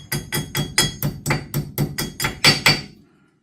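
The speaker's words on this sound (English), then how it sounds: "Slip our cotter pin back in there. Give it a little tap." Eleven light metallic hammer taps drive a cotter pin into the wheel hub of a CFMOTO ZFORCE 950 HO EX side-by-side, in an even close rhythm, then the sound stops.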